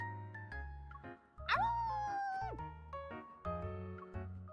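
A pet dog in a video game gives tonal, whimpering yelps with a rising and falling pitch glide, heard over soft melodic game tones.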